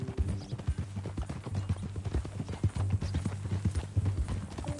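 Steady clip-clop of horse hooves at a trotting rhythm in Red Dead Redemption 2, close and continuous, with a low hum underneath.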